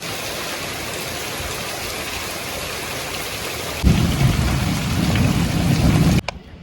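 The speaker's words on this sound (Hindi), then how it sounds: "अभी बाहर बारिश हो रही है" Steady rain falls outside, a dense continuous hiss with a heavier, closer wash of drumming that swells partway through before cutting off abruptly near the end; no voices.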